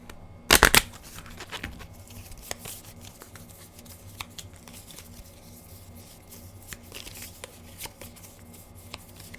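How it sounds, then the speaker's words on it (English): A deck of cards shuffled during a Legendary Encounters Alien and Predator board game, one sharp loud riffle burst followed by soft scattered card handling and light taps. "We need to shuffle his deck to just draw 1 more card."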